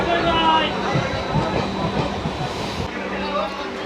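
Inside a moving passenger train, a steady rumble and hiss of the carriage carries on with faint rhythmic rail clatter, while a person talks over it nearby.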